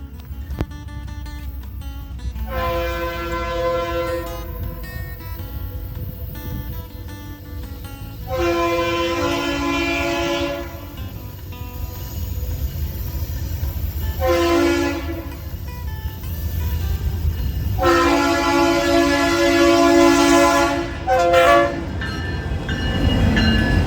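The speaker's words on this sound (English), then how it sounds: "local residents recognize 6957's horns" Horns of a Norfolk Southern D&H SD60E locomotive, number 6957, sound in four long, loud chord blasts with short gaps between them, over the steady rumble of a passing train.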